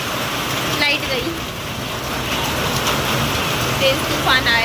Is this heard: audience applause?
no